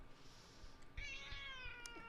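A cat gives a drawn-out, rising meow close by, quiet and alone, after a few soft rustles.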